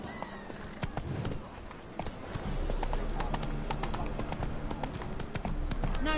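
Hooves of Roach, a horse trotting in The Witcher 3, clop in a steady rapid rhythm over a low ambient rumble, with a brief snort and muffled voices in the background.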